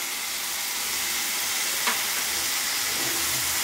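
Tamarind leaves fry on a stove over a low flame, giving a steady, even sizzling hiss that runs throughout, with one brief faint click partway through.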